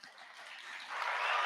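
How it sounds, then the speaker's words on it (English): Applause for the caterers at the 2022 FSIN First Nations Science Fair swells gradually, a soft wash of distant crowd clapping that grows a little louder toward the end. "So we want to give them a round of applause too."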